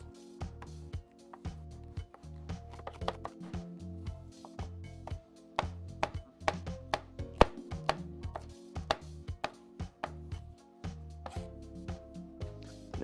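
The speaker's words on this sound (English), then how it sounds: "Got red pepper first. Slice down." A knife slices a red pepper on a chopping board in steady, close, crisp cuts, with about twenty sharp taps on the board at an uneven rhythm and quiet gaps between strokes.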